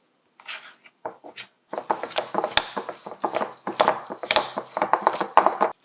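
Coconut flour cookie batter is stirred in a bowl, producing irregular scraping and clinking strokes of a utensil against the dish, close and fairly loud after a few sparse taps.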